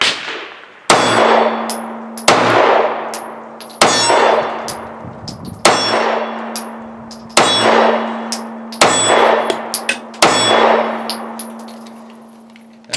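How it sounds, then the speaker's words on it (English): Seven sharp gunshots from a Smith & Wesson Chief Special 9mm pistol, each followed by a bright metallic clang off a steel target downrange and a long ringing decay, spaced roughly every one to two seconds. "And I'm shooting at a steel target downrange."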